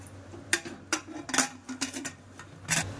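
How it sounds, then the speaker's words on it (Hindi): Metal lid being fitted onto a pressure cooker for a lauki paneer dish, several sharp metallic clinks and clacks spaced irregularly over a few seconds, close and fairly quiet. "अब कुकर पे ढक्कन लगा देती हूँ।"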